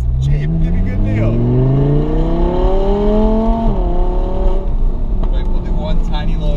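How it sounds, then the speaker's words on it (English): An Audi R8 V10 sports car accelerates briefly with its exhaust valves closed. The engine note is loud and close and climbs steadily in pitch before dropping back as it turns, with voices talking over it. "we'll do one tiny little acceleration with the valves closed as you turn here"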